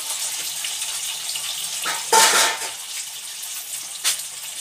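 Prawns fry in hot oil, a soft continuous sizzle broken by two sharper spitting bursts a couple of seconds apart.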